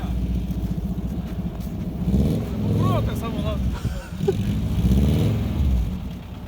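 A rare LuAZ-1301 off-road car on an off-road test rolls slowly in second gear, its low engine drone steady and close beneath excited talk and laughter.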